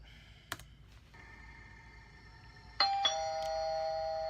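A doorbell chimes clearly, two quick tones that ring on and sustain, after a couple of faint clicks in a quiet room.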